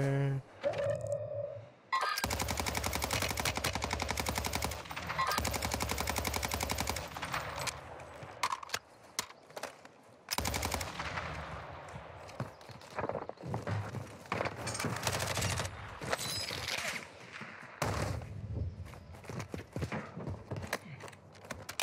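Dense rapid gunfire from a shooter video game, with sustained automatic bursts, loud and close, broken by brief pauses and scattered single shots, with players talking over the action.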